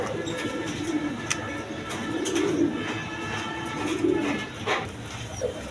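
A pair of tiger-coloured Rajgolla pigeons coo in low, soft rolls, a few swelling phrases rising over a steady hum of background noise with faint chirps from other birds.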